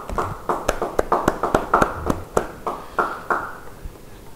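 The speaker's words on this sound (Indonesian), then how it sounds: "Yang mau beri tepuk tangan buat Tuhan." Church congregation claps hands in praise, a roughly even rhythm of sharp, distinct claps from a modest group, close and fairly loud, slightly ragged in timing and no one speaking.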